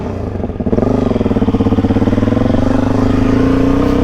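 A Suzuki DRZ400E motorcycle fitted with a Lectron Billetron Pro carburetor is ridden close by, its single-cylinder engine pulsing in a fast, steady throb that rises briefly in pitch as it accelerates.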